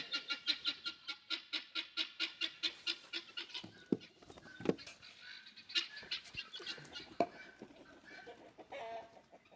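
Farm fowl calling near a cow milking stanchion being built: a long run of rapid, evenly spaced clucks, then irregular louder calls and knocks, fairly close and continuous, with no talk.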